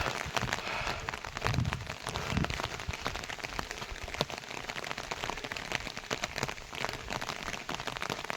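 Rain falls steadily on surfaces in a cold, snowy Uttarakhand village, a fine continuous patter with a few heavier drips, fairly faint and without talk.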